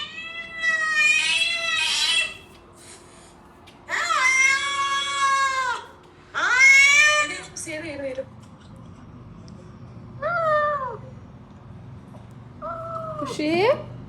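A cat meows repeatedly, long drawn-out calls in several bursts with pauses between, reacting to a recording of a cat's voice; a few shorter, rising mews follow near the end.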